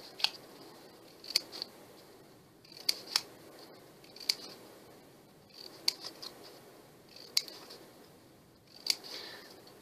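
Scissors snip through scrap paper to shape a boho feather: crisp, close cuts in small clusters of one to three, repeating about every second and a half with quiet gaps between.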